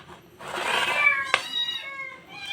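A cat meows nearby in one drawn-out, wavering cry, followed by a short click and a fainter, higher second meow, with no talking.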